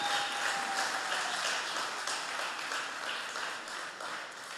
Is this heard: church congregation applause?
yes